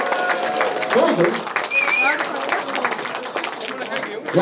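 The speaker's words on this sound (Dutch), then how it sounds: "Ja, dan mag je applaus." Applause at a carnival party in a community club, a lively patter of clapping mixed with chatter and voices talking and calling out over it, rising again at the end.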